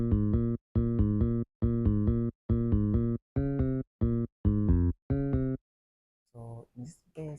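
A stock BOE bass synth from FL Studio plays eight evenly spaced, punchy notes in a steady rhythm, followed by a brief pause and a few softer, less distinct sounds at the end.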